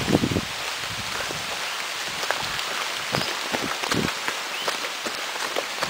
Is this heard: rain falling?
yes